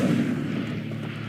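Incendio fire spell cast in Hogwarts Legacy, a short, loud rushing whoosh of flame with a booming low rumble, close and alone.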